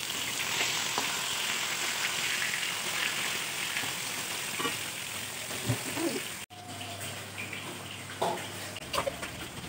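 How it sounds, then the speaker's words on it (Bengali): Fish fries in a pan with a steady broadband sizzle and hiss filling the space, occasional clinks and small knocks, and a brief cut before the frying continues a little quieter. "এখানে আমি মাছ ফ্রাই হতে দিয়ে দিয়েছি"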